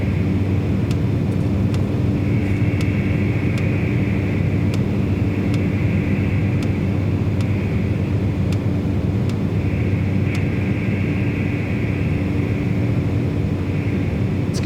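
A Cessna 208B Caravan turboprop in the MSFS 2024 flight simulator drones loudly and steadily in the cockpit. A constant low engine hum runs throughout, with faint periodic clicks and a slight tonal rise and fall, and no talking.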